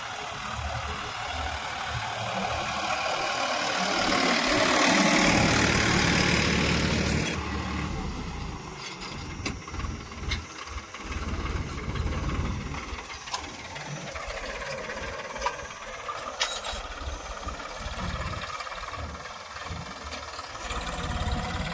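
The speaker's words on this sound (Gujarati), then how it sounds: "અને સોનાલિકા ટ્રેક્ટર હાલે છે" A Sonalika tractor's diesel engine idles steadily with a low, rumbling chug, louder in the first few seconds then settling into a continuous mechanical drone.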